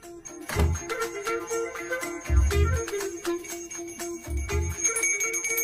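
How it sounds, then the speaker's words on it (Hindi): A small bell rings on its own, struck in three separate bursts a second or two apart, each tinkling with a bright ringing tone that lingers over a low thump, fairly close. "मुझे जल्दी आओ बोल के यहाँ पर घंटी बजा रहे हो।"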